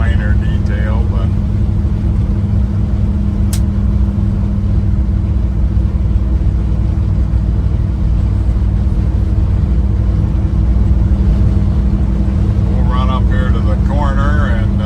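A 1972 Chevrolet C10 Custom Deluxe pickup with a 350 Turbo transmission driving, its engine a loud, constant low rumble with road noise throughout and brief voice traces near the start and end.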